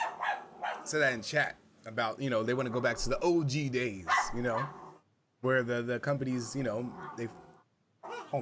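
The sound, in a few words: dogs barking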